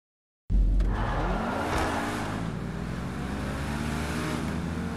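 A fast car in the video game GTA 5 starts abruptly and then holds a loud, sustained engine roar with rising revs and a brief tire squeal, steady and close with no talk.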